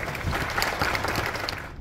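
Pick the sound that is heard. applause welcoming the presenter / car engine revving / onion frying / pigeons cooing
applause welcoming the presenter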